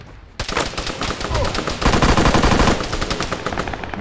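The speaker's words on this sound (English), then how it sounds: "Oh, you hear that gunfire?" Bursts of rapid automatic gunfire in the video game Arma 3, loud and close, continuing in dense rattling volleys for several seconds.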